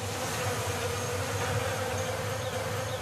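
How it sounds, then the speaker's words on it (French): Dense, steady buzzing of many bees on an organic farm, loud and continuous with no voices. "Les abeilles ont évidemment leur rôle."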